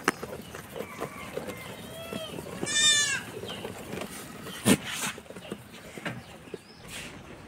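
Goats bleating in a farm shed while feeding on straw, one clear bleat near the middle amid soft rustling and scattered background noise.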